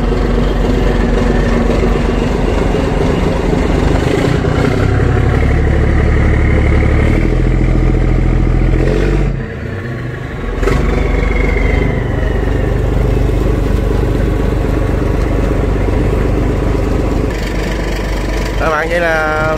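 An S6R 3-litre diesel engine on a trawler boat runs in a test, a loud, steady low chugging drone with mechanical clatter that dips briefly midway, with people talking over it.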